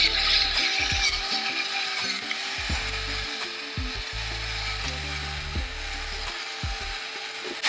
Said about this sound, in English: if you don't have one of these fancy battery-powered pepper mills